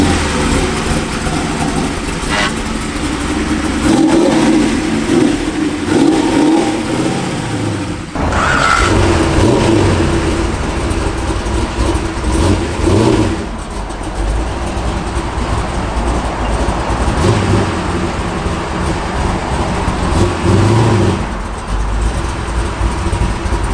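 A 1968 Camaro SS engine rumbles steadily while the car drives, a continuous loud, low drone with road noise and shifting swells throughout.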